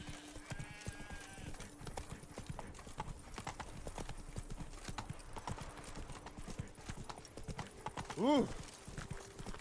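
Roach, a horse in the Witcher 3 Blood and Wine game, galloping in Toussaint with a steady, rapid clip-clop of hooves throughout, a short neigh near the end, and a brief voiced exclamation.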